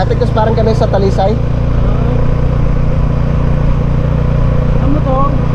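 A motorcycle engine idles steadily nearby, a low continuous drone that runs throughout while people chat over it in the first moments and again near the end.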